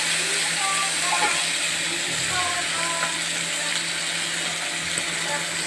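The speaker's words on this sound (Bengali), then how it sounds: "এবার পেঁয়াজগুলোকে ভালোভাবে ভাজা ভাজা করে ভাজতে হবে।" Chopped onions and green chillies fry in oil in a pan with a steady, soft hiss that runs unbroken throughout, with no talking over it.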